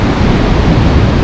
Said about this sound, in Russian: Красивые волны. Большие нет. Сейчас вот большие. 9-й вал пошел.